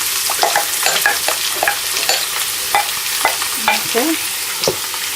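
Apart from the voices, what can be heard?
onions frying in oil in a pan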